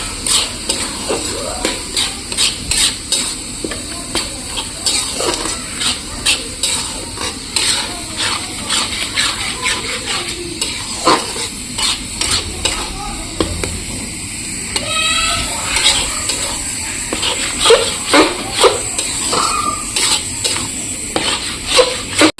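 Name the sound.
mixing and stirring lentil dal in a pan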